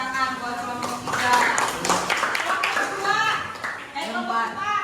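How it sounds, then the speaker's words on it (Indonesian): A group in a school counselling session claps for their group in loose bursts while voices talk and call out over the clapping throughout. "Tepuk tangan buat kelompok kita."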